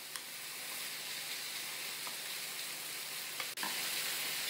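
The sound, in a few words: stirring minced meat with onion and spices in a frying pan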